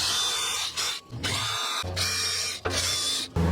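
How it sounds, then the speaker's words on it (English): A power drill fitted with a wire brush whirs in several bursts while cleaning a Toyota Corolla front brake surface, its buzzing grind broken by short pauses, loud and close with no talking. "I'm just going to use a wire brush on a drill."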